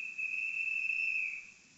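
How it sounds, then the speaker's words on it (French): A station master's whistle, a simulated sound from an ESU LokSound model train decoder, plays as a single sustained shrill tone lasting over a second before fading, heard alone. "j'ai le sifflet du chef de gare."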